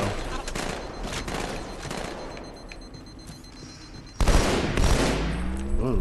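Bursts of battle rifle fire in Halo 2 Anniversary, set in the Metropolis level, crackle through the combat din and grow louder and denser toward the end.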